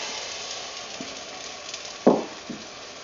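Tomato drops into a hot pan of softened onion, potato and carrot for Filipino lamb caldereta, bringing a brief sharp sizzle burst over a steady background frying hiss, with no talking.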